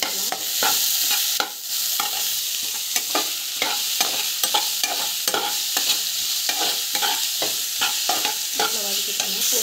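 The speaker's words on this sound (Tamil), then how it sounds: "ஸோ வெங்காயம் வந்து ஆட் பண்ணணும். நல்லா வந்து வதக்கிக்கலாம்." Onions sautéing in a pan with ginger garlic paste for a mushroom gravy, a loud close sizzle broken by frequent rhythmic scraping strokes of a spatula.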